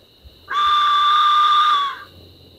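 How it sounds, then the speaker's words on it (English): A death whistle blown once in the haunted aqueducts of San Antonio, Texas, letting out a loud, piercing shriek that holds steady for about a second and a half before cutting off, with no one talking. "what he's about to use is called a death whistle"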